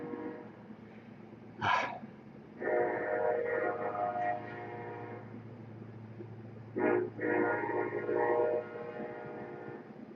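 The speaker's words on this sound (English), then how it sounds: "Good morning, train." A train passes with two loud horn blasts, each a few seconds long, over a low steady rumble of rolling cars.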